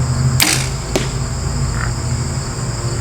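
Arrow leaves a bow with a sharp close snap near the start and a second sharp crack shortly after. Steady outdoor insect buzz continues underneath throughout.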